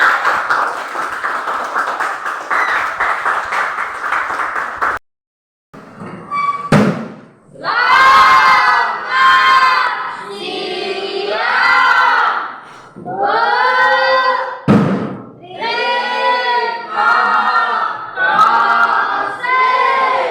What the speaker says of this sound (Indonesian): Tepuk tangan kepada kita semua.